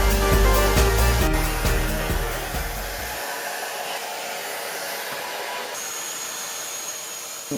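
A Numatic Henry NVR200-11 vacuum cleaner runs loud and steady with its brush nozzle on a hard floor, a heavy low roar that drops away after a few seconds and leaves a thinner, high-pitched motor whine.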